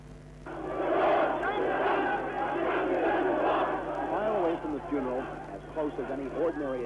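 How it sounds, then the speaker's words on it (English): A frenzied crowd wails and cries out at Anwar Sadat's funeral in Egypt, a dense, loud, sustained mass of voices with rising shouts and wavering cries near the end. "a frenzied crowd wheezed and wailed as press buses and dignitaries drove through the security perimeter"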